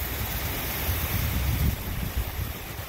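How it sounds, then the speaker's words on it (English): Steady wind rushes across the microphone in low rumbling gusts at a bay shore, with a broad hiss that may include water lapping nearby; no voices. "hope you can hear it because it is windy today."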